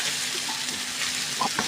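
Whole biryani spices such as cinnamon bark frying in hot oil for a potato and chicken curry, a steady close sizzle with a few soft scrapes of stirring near the end.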